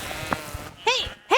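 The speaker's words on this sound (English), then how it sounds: "I realize the eager flock of sheep has surrounded me." Sheep in the video game Love and Deepspace let out two loud, close bleats in quick succession, following a short stretch of softer background sound and rustling.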